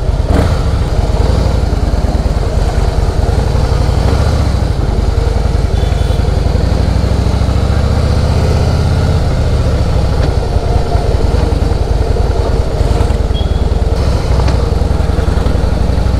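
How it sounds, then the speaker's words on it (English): A serviced Harley-Davidson motorcycle engine runs steadily with a low, continuous rumble, close and loud throughout with no speech. "The motorcycle feels super smooth."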